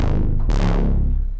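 Thick synth bass from the Substance instrument's Fat Bastard preset with one oscillator switched off plays alone, a deep sustained low tone with a brighter attack midway, steady and loud before easing off slightly at the close.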